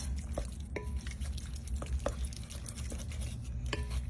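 Taco seasoning being stirred into food in a pan, a steady scraping and wet mixing with small clicks of the utensil, close and moderately quiet with no talk.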